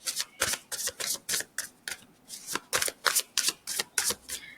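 Tarot cards shuffled in a steady run of about a dozen crisp riffling bursts, close and fairly loud, with no talking over them.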